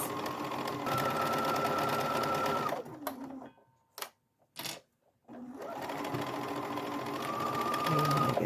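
A sewing machine stitches a fabric sink cabinet skirt in two long steady runs of rapid whirring, broken in the middle by a short pause with a few clicks and clacks as the fabric is adjusted.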